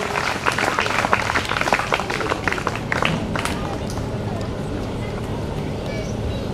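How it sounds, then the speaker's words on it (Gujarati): Loud applause from an audience at a Saraswati idol installation ceremony, dense clapping that swells at first and then settles into a steady ovation with crowd noise underneath, with no voice over it. "જોરદાર તાળીઓથી આપણે એમને વધાવીશું"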